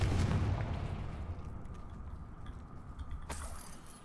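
A Confringo fire spell blasts off in Hogwarts Legacy, a loud booming burst at the start that rumbles and fades, then a sharp crack near the end.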